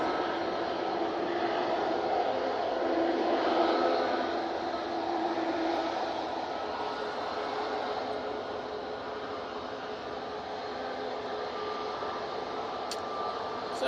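An Aer Lingus airliner in from New York JFK landing at Manchester Airport in stormy weather, a distant steady jet roar that swells slightly then eases under wind noise.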